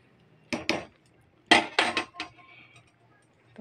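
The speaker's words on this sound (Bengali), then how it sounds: "তো কড়াই বসিয়ে দিয়েছি।" A metal wok (kadai) is set down on a kitchen stove, giving two quick clanks followed by a cluster of heavier metallic knocks and scrapes, close and loud against a quiet room.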